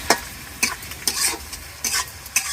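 Meat cooks in a pot outdoors in a Bangladeshi village, sizzling steadily while a utensil stirs it in five or six regular scraping strokes. Nearby and fairly loud, with no talking.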